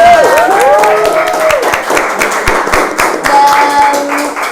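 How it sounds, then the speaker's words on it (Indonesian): Applause and cheering from an audience at a live event, lively clapping with whoops and tonal voices mixed in, fairly loud and sustained throughout. "Tepuk tangan."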